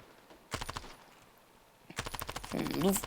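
Rapid automatic gunfire in the mobile shooter CS:GO Mobile, two short bursts of quick repeated shots separated by a pause, loud and close, with a voice speaking over the end of the second burst.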